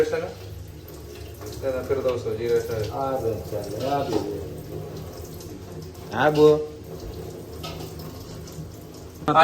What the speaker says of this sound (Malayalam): നമ്മളെ അരി കഴുകി കഴിഞ്ഞിട്ടുണ്ട്